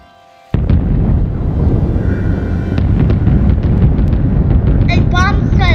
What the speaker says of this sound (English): then suddenly this happened. Suddenly a bomb.